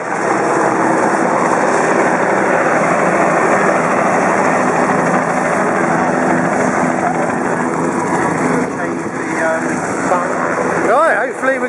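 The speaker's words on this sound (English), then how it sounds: "see all those helicopters snaking around." Loud, continuous chopping drone of helicopters overhead arriving at Silverstone for a race, a thick rotor roar that holds steady with a faint whine near the end.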